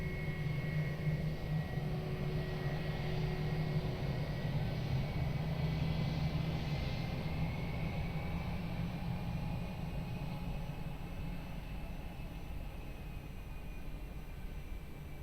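A Lufthansa airliner taxiing at Lisbon Airport gives a steady, distant jet-engine drone with a faint whine, slowly easing in loudness.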